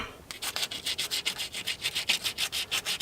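Sandpaper rubbed quickly back and forth by hand, cleaning parts during a starter replacement on a Mahindra tractor, a close, even string of about fifteen raspy strokes with no talking.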